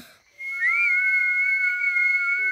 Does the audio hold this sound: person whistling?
yes